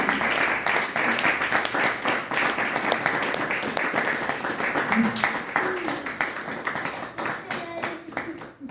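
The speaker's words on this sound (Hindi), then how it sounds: "थोड़ा ताली बजा देना" Audience applause in a spiritual talk hall, dense hand clapping that continues steadily for several seconds and thins slightly toward the end, fairly close and loud.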